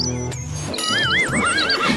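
A horse gives a loud, close whinny with a rising and falling warble lasting over a second, preceded by a brief hoof clop and heard alone without speech.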